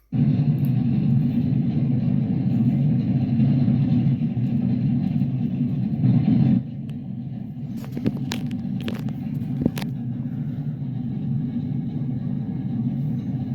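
Race car engines at Talladega, a loud massed rumble that drops after about six seconds into a steadier drone, with a few sharp crackles and clicks near the end.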